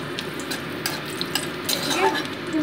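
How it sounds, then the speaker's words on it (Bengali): Dried red chillies frying in hot oil, a steady close sizzle with a few clinks of a utensil against the pan and a brief faint voice in the background. "এবার তেলের ওপর দিয়ে দিচ্ছি আমি শুকনো লঙ্কা।"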